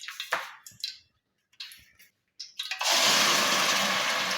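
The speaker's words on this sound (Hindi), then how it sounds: "अब मैं इसमें डालूँगी प्याज और अदरक लहसुन जो फ्राई करूँगी" Onion, ginger and garlic hit hot oil for an egg and potato curry, a few soft kitchen clatters giving way to a sudden loud, steady sizzle that fills the rest.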